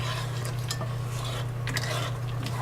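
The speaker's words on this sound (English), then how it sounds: "I'm gonna sit here and stir and stir and stir." A spoon stirs vegan toasted almond brittle in a pan, scraping and clinking repeatedly over a faint sizzle, with a steady low oven hum beneath.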